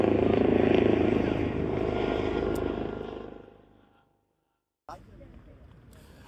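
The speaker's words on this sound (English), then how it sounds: "It's a heli chopper." A helicopter passes overhead as a broad, steady rotor roar that slowly fades away over about four seconds, leaving near silence and then a faint room hum after a single sharp click.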